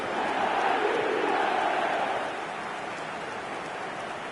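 Stadium crowd roaring after a football goal, a broad loud wash of massed voices that holds strong for about two seconds, then settles to a lower sustained rumble.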